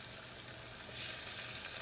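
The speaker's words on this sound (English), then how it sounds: "All right, I'm going to go ahead and put my onions in at this time." Onions sautéing in a pan of butter and olive oil, a soft steady sizzle that brightens and grows louder about halfway through, faint and close with no talking.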